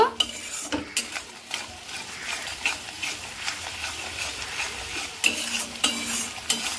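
Spices with salt, turmeric and Kashmiri chili powder sauté in a pan, a steady sizzle punctuated by repeated sharp scrapes and clinks of a spatula stirring against the pot.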